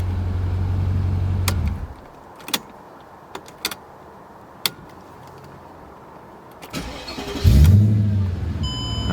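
A Mercedes CLK55 AMG with a swapped M113K engine idles with a low rumble, falls quiet apart from a few sharp clicks, then restarts near the end with a loud, close surge of engine noise.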